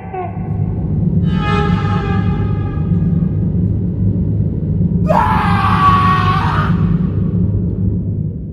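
Two drawn-out female screams from a ghost story, the first thinner and fainter, the second louder and harsher, over a constant low rumbling drone with no talk.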